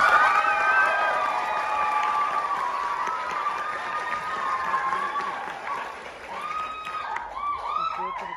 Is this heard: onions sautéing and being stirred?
no